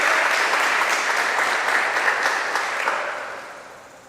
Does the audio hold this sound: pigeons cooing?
no